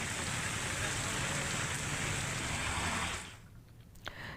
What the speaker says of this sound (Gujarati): અનેક ગામોમાં પણ ઝરમર વરસાદ